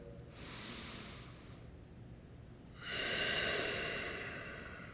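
Two slow, deep breaths during a gentle yoga stretch, a soft airy inhale followed by a longer, stronger exhale, close and quiet with no talking.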